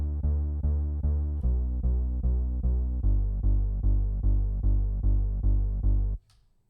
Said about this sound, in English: now when we hear the bass, it sounds like this.